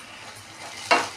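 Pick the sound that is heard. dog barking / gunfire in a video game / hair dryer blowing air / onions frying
onions frying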